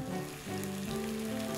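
Breakfast sizzles and crackles in a frying pan, a dense, continuous hiss of popping fat heard close up with no voices.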